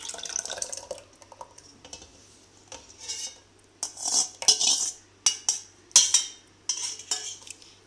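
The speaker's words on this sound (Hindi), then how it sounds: "सबसे पहले हम ब्लेंडर में दही डालेंगे" Yogurt goes into a blender jar for a mint lassi, heard as a series of soft wet plops and light clinks of a spoon against the container in short, irregular bursts.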